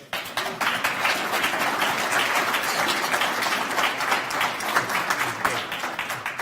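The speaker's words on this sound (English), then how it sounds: "How about a round of applause?" A crowd at a Chamber of Commerce county budget meeting applauds steadily and loudly throughout, a dense wash of many hands clapping with no pauses.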